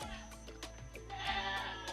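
Goats bleating in a brief burst of several overlapping wavering calls, moderately close and fairly quiet, with no talking.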